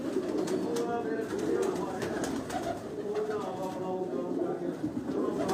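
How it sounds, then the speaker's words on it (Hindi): A black-faced breeder pigeon coos in soft repeated low calls, mixed into the steady murmur of a loft with other birds, while someone talks over them. "ये भी दोस्तों एक काले मुँह वाला ये ब्रीडर कबूतर है उनका"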